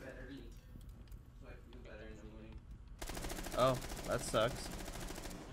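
A burst of rapid automatic gunfire from Rainbow Six Siege breaks in partway through, loud and close with a few heavier shots, after a stretch of players talking over the game.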